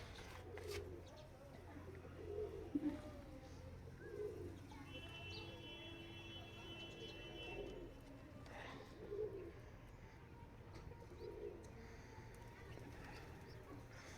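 Local and Sirazi pigeons coo in a coop among squabs, soft low coos recurring every second or two against faint background noise, quiet and close.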